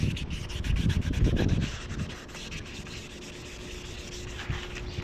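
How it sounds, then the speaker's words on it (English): Rapid rhythmic scratching of 400 grit sandpaper wet sanding painted plastic car trim back and forth, close up and steady, louder at first then softer. "I'm still wet sanding with some 400 grit."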